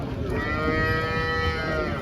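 A cow at a cattle market near Malegaon, Nashik lets out one long, loud, steady moo over busy crowd ambience.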